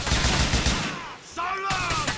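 Rapid automatic gunfire from a video game crackles loudly for about a second, pauses briefly, then a second burst follows, close and dense with reverberant tails.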